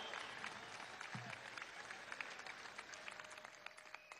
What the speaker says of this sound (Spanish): Un aplauso a esta joven venezolana, líder de las trabajadoras